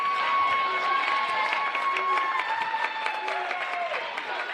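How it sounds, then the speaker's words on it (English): Crowd applause in a gym at a girls high school basketball game, steady clapping and cheering sustained throughout with an announcer's voice over it. "A good round of applause for Kate Book as she heads back to the bench"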